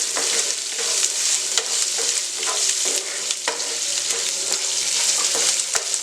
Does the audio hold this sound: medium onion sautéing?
yes